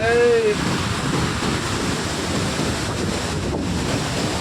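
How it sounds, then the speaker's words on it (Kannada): A steady, loud roar of water rushing through a single half-open gate at Sannakki dam, with wind buffeting the microphone and a brief voice at the very start. "ಹಾಫಲ್ಲೇ ನೋಡ್ರಿ ಯಾವ ಥರ ನೀರು ಹೋಗ್ತಾ ಇದೆ ಅಂತ ನೋಡ್ರಿ"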